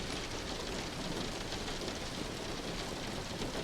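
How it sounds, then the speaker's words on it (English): Steady, even rain hiss in a truck simulator video game, moderately quiet, with a dense patter of drops and no other sounds. "And now we can see it is raining."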